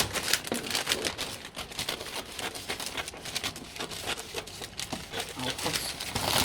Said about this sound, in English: Okay, so I'll keep on cutting.